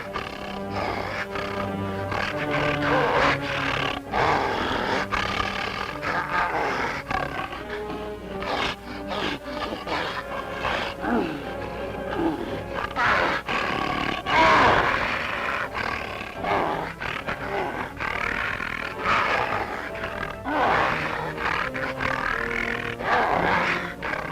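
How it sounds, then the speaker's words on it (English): A Bengal tiger and an Indian lion fight in a pit, with continuous loud roars and grunts over a busy, layered din that swells and peaks in the middle and keeps going throughout. "The tiger's unexpected attack takes the lion by surprise."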